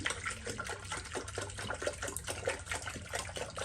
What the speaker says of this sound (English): So let's just go ahead and punch some distilled water inside